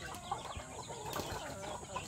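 Free-roaming gamecocks on a farm cluck softly and intermittently, faint and somewhat distant over a continuous background hiss, with a few scattered scratching taps.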